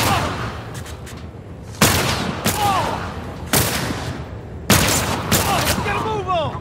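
Gunfire in the video game The Last of Us, a handful of sharp loud shots spaced a second or two apart, each with a ringing tail, with a voice talking under and between them.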